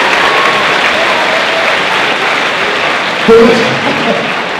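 Dense, steady applause fills an award-show hall at the German web video prize, carrying on unbroken throughout with a brief louder burst near the end, as if from a voice or cheer rising over the clapping.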